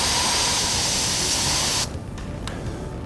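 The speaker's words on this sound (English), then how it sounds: "demonstrating the improper way of spraying by using a long, continuous burst into the face of the aggressor" OC pepper spray aerosol fired in a long, continuous burst, a loud, close, steady hiss that cuts off abruptly partway through, followed by a couple of faint short sputters.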